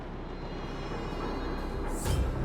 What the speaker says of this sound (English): Do Fragmentum monsters usually sound like this?